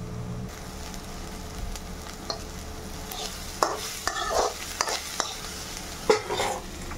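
Black cumin seeds splutter with onions in hot oil, a low steady sizzle under scattered scrapes and taps of a spoon against the pan.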